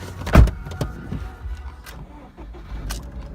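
A 2012 Subaru XV starts with a brief cranking burst, then settles into a low, steady idle heard up close from inside the car.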